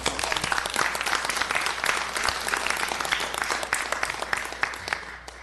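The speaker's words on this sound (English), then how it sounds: "Let's give her a round of applause." Sustained audience applause fills a city commission meeting in Rome, Georgia, dense steady clapping from a crowd at close range with no talk over it.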